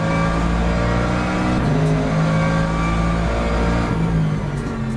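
A 2025 McLaren GT3 race car launching from the start in a sim racing game, its engine roaring loud and steady as it accelerates, with other cars' engines close around it and no talking.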